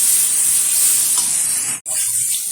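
Ground cumin, ginger and chili paste with chopped tomato sizzling steadily in a hot pan, a constant close hiss with a brief dropout near the end.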